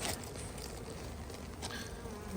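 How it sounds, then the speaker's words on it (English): A faint, steady buzz of honeybees swarming nearby during a colony inspection, with a soft constant hum and occasional light patter, no voices. "here bees, have some pollen"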